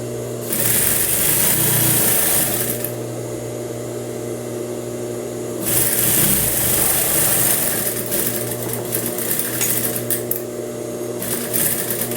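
A sewing machine runs in two steady buzzing bursts as it stitches the side seam of a blouse, with a quieter mechanical hum continuing between them.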